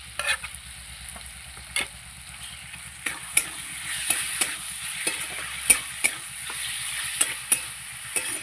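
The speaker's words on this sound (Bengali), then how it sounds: "লতিটা দিয়ে একটু নেড়ে চেড়ে এবার মশলাগুলো আমি দিয়ে দেবো" Taro stolons being stirred in a pan with ground mustard, garlic and green chili paste, a steady soft sizzle with repeated sharp clicks and scrapes of the spatula, close and without talk.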